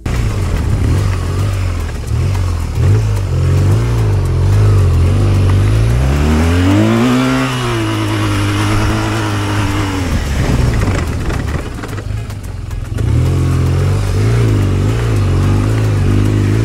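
A motorcycle engine at a GS Trophy adventure-bike pre-qualifier event in Medellín, Colombia runs loud and close throughout, idling steadily and then swelling into a rising rev mid-clip before settling back to idle.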